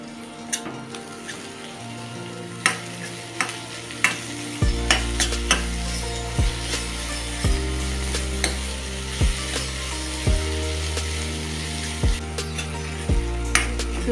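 Onion, tomato and capsicum frying in a pan for paneer bhurji, a steady soft sizzle under repeated scraping strokes of a spoon stirring, with a low hum running throughout.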